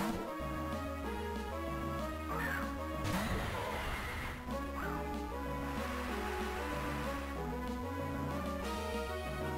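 The Brave Bird attack effect in the Pokemon Radical Red video game plays as a short screeching, crashing burst over loud, steady in-game battle music, with no talk.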